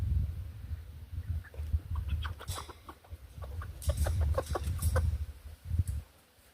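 Giant silkie chickens clucking and peeping close by in short, irregular bursts, with a soft low rumble underneath.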